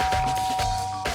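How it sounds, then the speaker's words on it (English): A doorbell rings in the Danganronpa: Trigger Happy Havoc video game, a steady electronic chime tone sustained over a brief moment, clear and alone. "Press the doorbell."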